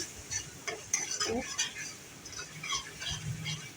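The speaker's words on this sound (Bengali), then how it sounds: "এবার আমি একটু টমেটো সস দিলাম, নাড়তে থাকছি" Tomato sauce is stirred into a paneer curry in a pan, giving quiet, close scraping and light clinks of a spoon against metal over a soft background sizzle.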